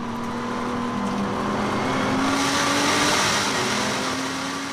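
Nissan GT-R and Corvette race cars at the Nürburgring 24 Hours, one diving inside the other at over 200 km/h: a steady, loud engine drone with a rising whine swelling mid-pass, no talk.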